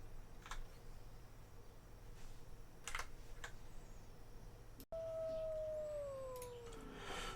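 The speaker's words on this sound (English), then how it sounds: "I'm currently howling to the brain bugs, I guess. Howl mode is a mode that the werewolves get." A werewolf character in the online game Project Gorgon gives a long, clear howl that slowly falls in pitch. Keyboard typing clicks sound before and under it.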